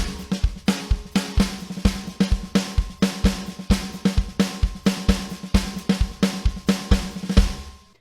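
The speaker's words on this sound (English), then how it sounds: "the main thing we're going to learn is the samba hand pattern" Drums play a steady, driving samba hand pattern, with quick repeated strokes and regular accents, loud and up close, no talking.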